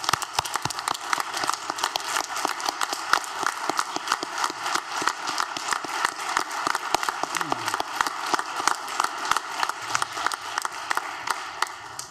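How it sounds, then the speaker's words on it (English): Sustained applause from an audience for a student performing arts group at a school district board of education meeting, dense steady clapping filling the room for the whole stretch. "Let's give them another round of applause for a wonderful performance"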